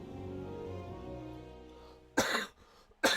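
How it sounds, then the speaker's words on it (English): A character in the Soul Calibur 6 fighting game gives two sharp, close coughs after a low background hum, the second cough cut off at the end. "I really hate when I cough like this."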